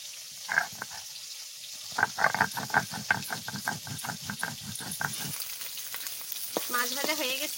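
Fish frying in hot oil in a home kitchen for a fish masala, a steady close sizzle and crackle with bursts of spatter and stirring, fading near the end as a soft tone rises.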